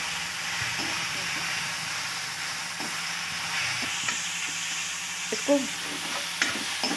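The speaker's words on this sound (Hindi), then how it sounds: "तो हम इसको अच्छे से भून लेंगे जब तक इसका कलर ना चेंज हो जाए" Green chickpea paste roasting on medium-low heat for nimona while being stirred: a soft, continuous sizzle and hiss with scattered scraping strokes of the spoon against the pan, under a few brief spoken words.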